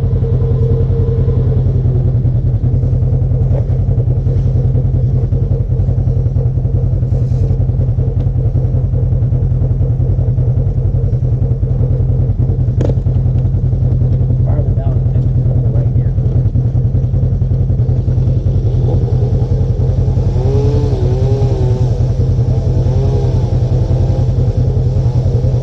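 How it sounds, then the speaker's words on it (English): Off-road vehicle stuck on a muddy trail at Windrock, a loud, steady low engine rumble with revs swelling and fading while wheels spin in the mud, with voices talking over it. "You're just spinning in the mud, man."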